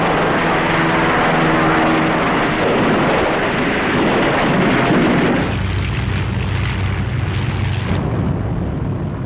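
German Luftwaffe aircraft drone loudly during a bombing assault, a continuous heavy engine roar that shifts slightly in tone partway through, with no voices.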